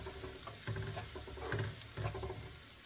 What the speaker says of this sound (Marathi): मीडियम गॅसवर हा थोडा फ्राय करून घ्यायचा आहे